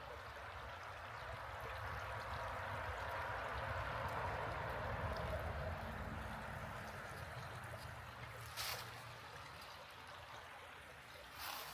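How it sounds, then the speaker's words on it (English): Steady rushing stream water fills the scene in Hot Springs Village, Arkansas, a continuous flowing wash heard close and fairly loud, with a brief knock near the end. "And listen to the water flowing down."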